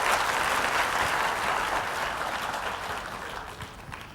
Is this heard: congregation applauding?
yes